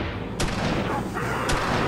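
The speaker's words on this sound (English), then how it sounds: "And I'm shooting endlessly." Rapid, loud gunfire in a zombie shooter video game, dense continuous shots with two sharper bursts standing out over the barrage.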